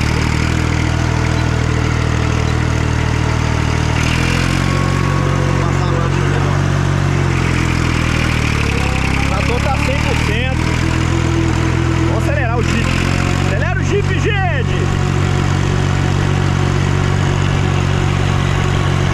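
A restored 1964 Massey Ferguson 50 tractor engine runs steadily while being driven, a loud continuous low chug with someone talking over it throughout.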